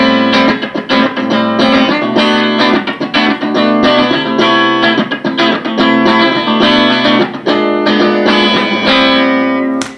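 An electric guitar sent through a BOSS WL-60 wireless system set to long cable simulation mode plays a dense, continuous run of distorted chords and notes, loud and steady with a somewhat dulled top end.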